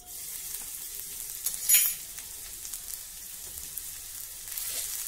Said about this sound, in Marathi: तेल गरम झालं की त्यामध्ये 1 टीस्पून ठेचलेलं आलं आणि लसूण घालूया